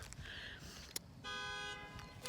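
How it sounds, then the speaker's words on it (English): A car alarm gives a brief, faint electronic chirp of steady tone, sounding once from some distance in otherwise quiet surroundings. "That's my car alarm."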